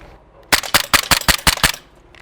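Slide of a Sig Sauer P229 airsoft pistol, a Coast Guard training handgun, power stroked: a fast run of about seven sharp, loud mechanical clacks in a tight, even rhythm, close up with no talking.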